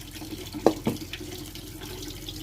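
Meat being washed under a running kitchen tap: a steady stream of water with two louder splashes near the start, then a constant, fairly close rush.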